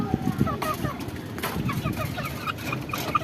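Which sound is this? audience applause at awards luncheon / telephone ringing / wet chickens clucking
wet chickens clucking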